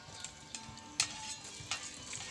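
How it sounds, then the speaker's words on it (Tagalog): Onion and garlic frying in hot oil for Bicol-style bagoong, a soft steady sizzle with a few faint clinks and stirring taps, quiet and close. "Lalagay na tayo ng sibuyas. Damakbak na sibuyas at bawang."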